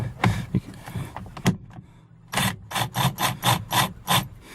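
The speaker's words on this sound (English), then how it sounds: "So I'm going to just use this to loosen this up a little bit." A BMW E46 steering wheel bolt being worked loose with a wrench gives a burst of rapid ratcheting clicks, a short pause, then a steady run of rhythmic ratchet strokes, close and loud.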